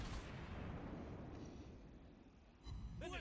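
Naval gunfire in World of Warships Blitz: a low rumbling boom that sustains and fades, then a second sharp blast near the end, heard alone at moderate level.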